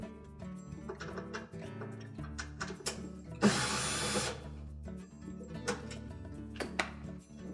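A power drill briefly spins out a screw from the blower cover of an LG dryer, one short whirring burst of about a second rising out of quieter background tones and faint clicks.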